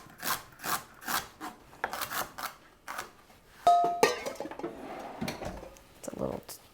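Rhythmic knife strokes chop celery on a cutting board, a steady series of crisp thuds, then a brief clatter and quieter scraping.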